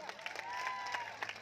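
Brief audience applause at a college freshers party, a crowd clapping under a steady whistle-like tone, moderately loud but short.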